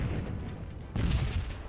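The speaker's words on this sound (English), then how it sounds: "Why was your explosion delayed?" A rumbling explosion from the 1998 strategy video game Axis & Allies booms in a low, dense roar that swells suddenly midway and holds loud to the end.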